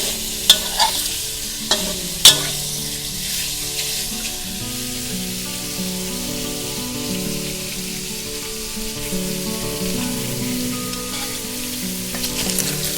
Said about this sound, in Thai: สามชั้นของเราเริ่มมีน้ำมันออกมาแล้วนะคะ ให้เราคั่วต่อไปเรื่อยๆเลยค่ะ